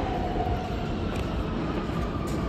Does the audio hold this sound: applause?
no